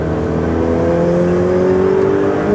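Engine of a Ferrari 488 Pista, a rear-wheel-drive car, droning steadily from behind the wheel with a continuous loud hum whose pitch climbs slowly as it revs while driving, with no talk over it.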